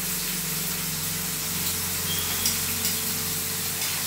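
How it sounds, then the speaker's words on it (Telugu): Eggplant pieces and green chillies sizzle in hot oil, a steady close hiss and crackle of frying that carries on evenly throughout. "ఇక వంకాయ ముక్కలు వేసేస్తున్నా నూనెలో."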